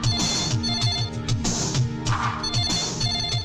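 A telephone rings loudly and insistently in a Hindi film scene, its electronic trill repeating in quick bursts across the whole stretch with no voices.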